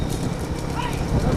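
A lone bull pulling a cart races ahead of the field in a large single-bull cart race near Chennai, its hooves drumming a fast, steady clip-clop under a continuous commentator's voice and crowd din.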